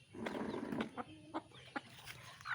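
A mother hen clucks to call her chicks in a farmyard, giving a series of short, soft, rhythmic clucks close by with faint rustling between them and no talk.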